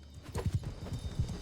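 Hooves clip-clop under a horse ridden in the video game Mount & Blade II: Bannerlord, Realm of Thrones mod, a quick irregular run of muffled thuds close by, with no talk over it.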